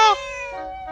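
A cat meows once in the video game Zelda Echoes of Wisdom, a single short, clear, close tonal cry that falls and then holds briefly.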